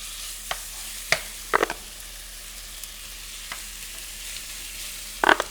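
Adobo-marinated steak tips sizzle and hiss steadily in a hot pan, with a few sharp crackles and pops scattered through.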